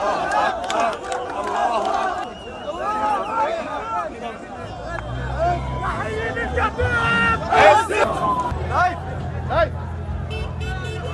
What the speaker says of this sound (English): Footage appeared to show released prisoners being carried on people's shoulders as crowds cheered, clapped and waved flags in the streets.